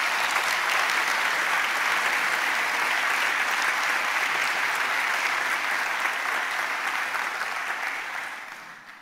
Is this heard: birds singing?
no